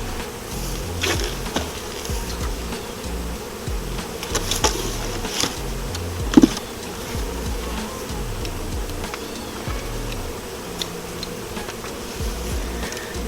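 Honey bees swarm around a three-story beehive being moved, a continuous low buzzing hum close by with scattered ticks and knocks from the hive boxes and frames.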